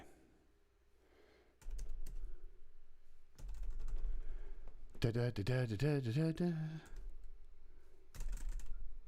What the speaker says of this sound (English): I love this Bluetooth keyboard on the Mac Mini.